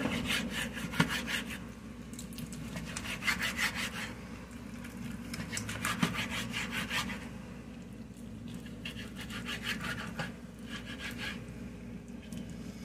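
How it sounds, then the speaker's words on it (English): A knife slices through sheets of homemade chicken ravioli pasta on a board, making soft repeated rubbing, scraping strokes in uneven bursts, close and fairly quiet, with no talking. "Just slice and cut. First, cut into sections."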